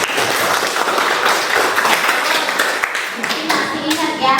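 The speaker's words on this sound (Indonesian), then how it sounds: "kasih tepuk tangan" A school class clapping hands together in applause, a dense, lively patter of many hands throughout, with children's voices mixed in.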